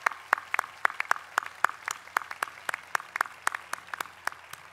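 Audience applause at a Santa Monica College graduation ceremony, a steady run of distinct claps, moderately loud and fairly sparse, as from a smaller group in a large hall, with no talking over it.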